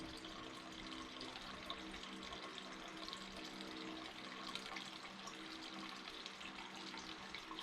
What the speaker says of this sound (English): Oh, it's still draining.